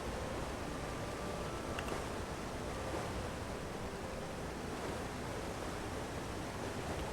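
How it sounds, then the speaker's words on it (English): Steady broadband rush of a waterfall in Elder Scrolls Online, a constant even roar filling the whole stretch with no breaks, heard near and alone without voices. "very beautiful with the waterfall as a backdrop"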